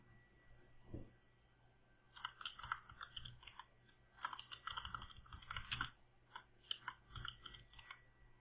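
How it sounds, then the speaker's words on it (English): Rapid keystrokes on a computer keyboard as a username is typed during Windows setup, a dense run of close, crisp clicks with brief pauses and a soft thump near the start. "type in the username"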